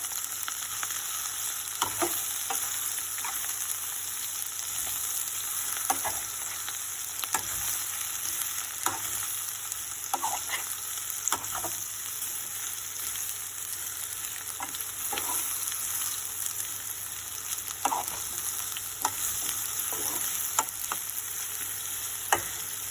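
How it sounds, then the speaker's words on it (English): Raw banana pieces with chana dal and curry leaves sizzle steadily in a pan while a spoon stirs and scrapes at irregular intervals, with no talking. "I added the banana, and we have to mix all these things together."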